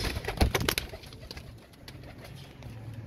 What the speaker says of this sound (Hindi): सब एक से बढ़कर एक कबूतर है